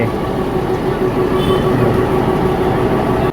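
Steady, loud rumble of a 110-year-old narrow-gauge heritage train engine on the Bilimora–Waghai line, with a droning hum and faint rhythmic clatter, close by and continuous.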